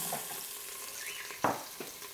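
Chopped onion dropped into an Instant Pot with seared beef for stew, a soft close sizzle with a couple of brief stirring scrapes, fairly quiet throughout.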